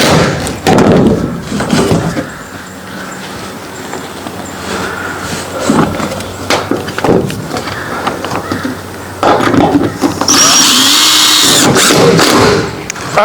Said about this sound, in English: we're going to go ahead and put the other screws in